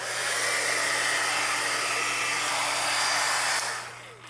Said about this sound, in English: I'm going to hit it with the embossing gun again